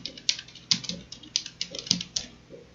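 Typing on a computer keyboard, with quick, close keystrokes in a light, uneven patter over a quiet room tone.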